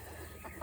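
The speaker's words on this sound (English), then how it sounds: "Trying to get through the flock of chickens should be an Olympic sport" Chickens clucking close by in a short burst of overlapping calls, with a busy flock murmur underneath.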